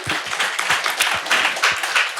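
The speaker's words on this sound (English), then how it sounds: "I would like us to give a round of applause to our really great jury." Audience at a startup demo day applauding the jury, a dense, steady burst of many hands clapping together, loud and close throughout with no talk over it.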